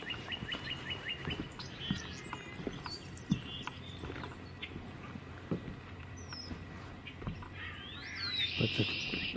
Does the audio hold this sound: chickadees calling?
yes